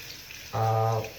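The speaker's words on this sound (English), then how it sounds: "you can also start running the hot water now" Hot water gushes from a bathroom tap in a short, steady burst lasting about half a second before cutting off, close and fairly loud.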